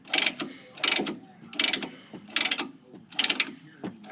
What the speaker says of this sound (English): Just kind of move the piston back in slowly.